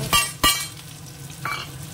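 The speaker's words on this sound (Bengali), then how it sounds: "এবার এর মধ্যে দিয়ে দেবো পেঁয়াজ কুচি" Chopped onion hits hot oil in a pan with small diced potatoes: two sharp sizzling bursts, then a steady close crackle of frying with a brief stirring scrape, no talking.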